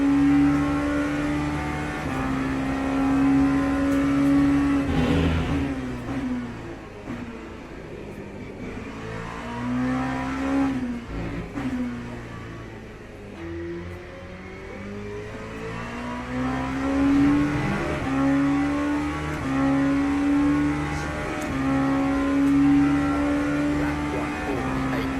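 LMP2 prototype race car engine in Le Mans Ultimate, a loud sustained drone that climbs and falls through the gears with repeated revving sweeps, continuous and close.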